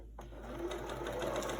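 A sewing machine starts up and runs a quarter-inch seam across quilt fabric, a quiet close mechanical whir with a rapid, even stitching rhythm over a short run.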